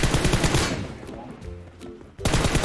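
Loud automatic gunfire in the mobile battle royale video game PUBG Mobile, a rapid burst that fades out, a short gap of ringing tones, then another burst.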